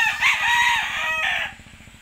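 A rooster crows loudly up close, a strained drawn-out call over a faint rapid clucking underneath.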